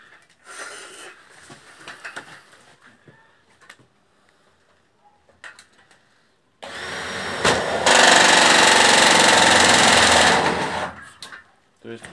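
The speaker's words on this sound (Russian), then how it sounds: "И сейчас саморезами насквозь прокручиваем два конька и все уголки." A screwdriver driving self-tapping screws through the ridge pieces and corner angles of a window vent block. There is a short spell of quieter handling noise, then a loud sustained whirring burst of several seconds, close by with no talk.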